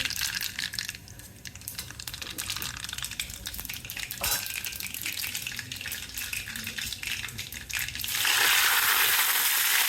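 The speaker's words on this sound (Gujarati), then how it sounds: "તો આપણે વઘાર કરી લઈએ આનો રાઈ" Mustard seeds and curry leaves crackle and sputter as they hit hot oil for tempering, a dense popping hiss that grows louder and brighter in the final seconds.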